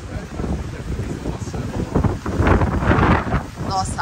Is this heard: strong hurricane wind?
yes